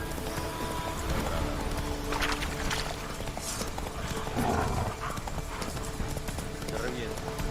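Geralt's horse Roach gallops in The Witcher 3, a fast rhythmic clatter of hooves running steadily under someone talking in Spanish, with game sounds mixed in.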